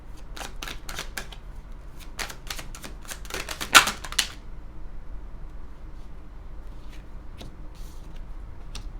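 Tarot cards are riffled in quick, crackling bursts, several shuffles in a row, then a few scattered soft clicks in a quiet room.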